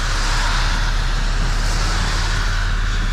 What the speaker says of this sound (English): You can hear how fast people are driving.